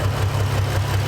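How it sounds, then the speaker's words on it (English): A car engine with a misfire, running on five cylinders, idles with a steady, rough low rumble, close and continuous, with no voices. "I've got a misfire. I'm running on 5 cylinders"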